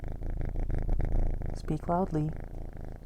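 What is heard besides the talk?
cat purring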